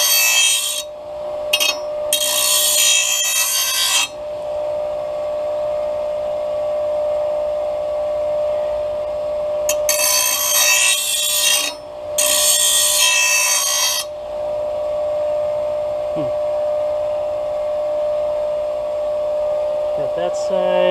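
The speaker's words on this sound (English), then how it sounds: "not trying to burn the metal by letting it sit too long on the grinder" A John Deere mower blade is ground on a bench grinder in several loud, harsh bursts of abrasive grinding over a constant motor whine, with quieter gaps between passes.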